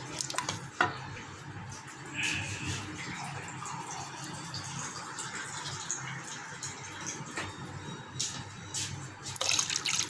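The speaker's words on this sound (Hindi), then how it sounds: "हम इसमें पानी शामिल कर देते हैं।" Water is poured into a pan of cooking gram-flour masala and sizzles and bubbles, with occasional clinks of a utensil, fairly quiet and close.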